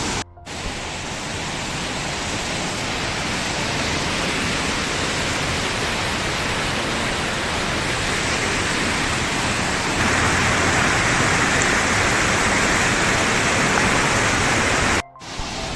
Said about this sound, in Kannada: ಅಬ್ಬಿ ಇದೇ ಅಬ್ಬಿ ನೋಡಿ